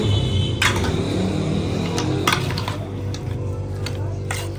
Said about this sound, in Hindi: अब इसे करते हैं मिक्स